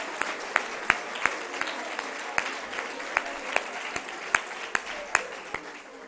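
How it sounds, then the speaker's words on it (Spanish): Audience applause at a political talk at a feminist school of thought, a dense steady wash of clapping with sharp individual claps standing out, fairly close and sustained throughout with no speech over it. "Un aplauso."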